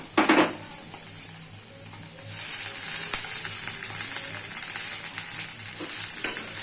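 Mashed flat beans (shim bhorta) stirred in a pan with chopped coriander leaves, a close sizzle with scraping strokes of a utensil against the pan, growing louder partway through, no talking.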